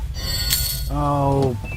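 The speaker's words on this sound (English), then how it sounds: "That was my phone going off." A phone goes off, ringing with a bright electronic ringtone over steady background hum during a Dungeon Siege game session, with a brief spoken exclamation.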